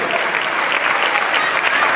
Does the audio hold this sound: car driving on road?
no